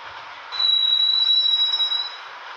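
Subway train running through tunnels on a Moscow metro line in Subway Simulator 3D, a steady rumbling roll that swells halfway in, with a thin, sustained high wheel squeal riding over it, then easing back.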